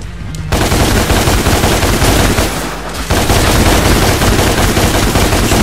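Loud, sustained machine-gun fire in the Devil May Cry 5 video game, two long unbroken bursts separated by a brief pause near the start and again midway.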